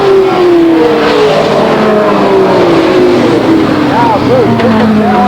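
Race cars roar around the Lake Geneva Raceway track in 1994, engines whining loudly and continuously with pitch shifts as they pass, under an announcer's commentary.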